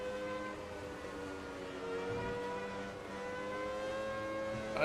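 F1 race car engine from a racing video game, set at the classic Spa circuit, holding a steady high-pitched whine with stacked harmonics that shift gently in pitch, a brief swell midway and a louder rise at the very end.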